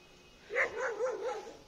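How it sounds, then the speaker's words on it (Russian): A dog in a village lets out a quick run of about four yelping barks at moderate distance, rising and falling over a quiet background. "Вон еще собака."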